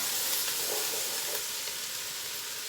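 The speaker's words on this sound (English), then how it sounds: "now what I'm going to do is I'm gonna add the white wine. We're gonna deglaze the pan" White wine poured into a hot pan to deglaze caramelized bits while making cauliflower parmesan soup, giving a steady, close hiss of sizzling that holds evenly throughout.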